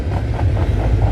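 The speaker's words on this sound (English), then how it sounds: "symbol on this train is CN Q107" CN Q107 freight train from Brampton Intermodal Terminal, Ontario, rolling past on the CN York line at milepost 23: a loud, close low rumble with rhythmic wheel thumps pulsing through steady wind buffeting.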